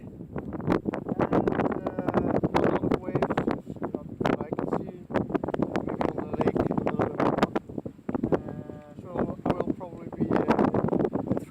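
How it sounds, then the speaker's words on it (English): Wind buffets the microphone steadily while someone travels alongside a canal in fine weather, a loud rushing roar that runs throughout with brief lulls. "I think I've got even a wind in the back."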